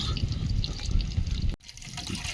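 Chili sauce, soy sauce and tomato sauce poured into a mixing bowl in a home kitchen: a steady, close liquid trickle and pour that stops abruptly near the end, with faint kitchen noise after and no talk.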